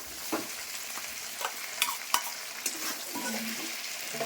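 Turmeric being stirred into vegetables cooking in a pan for a vegetarian lunch, with a steady sizzle and irregular scraping strokes and spoon knocks against the pan, close and fairly quiet.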